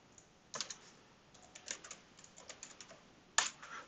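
Typing on a computer keyboard while entering an email address, with quiet, irregular key clicks in short bursts and a couple of sharper, louder taps, close and alone without speech.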